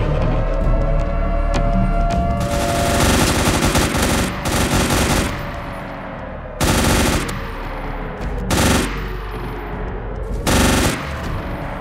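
Rapid automatic gunfire from the Project SCP video game, loud, dense bursts running almost continuously with brief pauses and heavy echoing booms, no talk.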